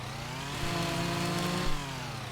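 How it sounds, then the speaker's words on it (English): A new, sharp chainsaw in a roleplay video game revs steadily while cutting wood, a brief close burst with the engine note rising slightly mid-cut. "Wow, this chainsaw is really sharp."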